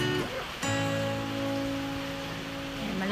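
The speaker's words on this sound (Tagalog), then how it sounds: "Malakas ng ulan." Heavy rain falls steadily on a surface outdoors after a hot spell, a dense continuous wash that runs alone with no talk, punctuated by a brief sharp knock early on.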